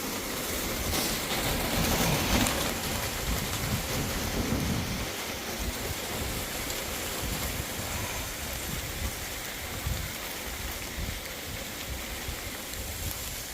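Steady heavy rain pours down as a Hurricane Milton rain band passes, a dense continuous outdoor hiss that swells loudest early and then settles, with no voices.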